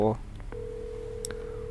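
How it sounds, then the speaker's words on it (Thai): Telephone keypad tones from a number being dialed in Marvel's Avengers video game, a brief burst of beeps followed by a steady ringing tone, with a faint voice underneath. "กดเบอร์โทร"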